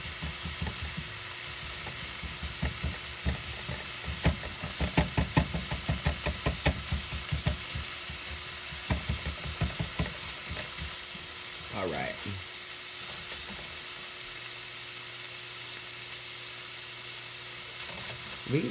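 Food fries steadily in a pan as its liquids cook off, a constant sizzling hiss with bursts of clattering stirring and scraping in the middle, close and fairly loud, with no speech.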